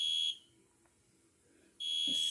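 Piercing electronic fire alarm tone, loud and nearby, cuts off briefly and then starts again with another harsh pulse.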